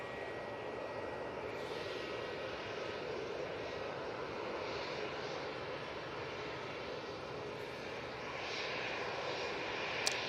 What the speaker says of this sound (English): And the Jet2 A321 Neo has just arrived.